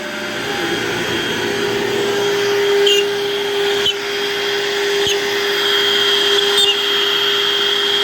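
A loud, steady whine of a router cutting pre-drill holes, with a dust collector roaring underneath and brief changes in pitch as the bit works.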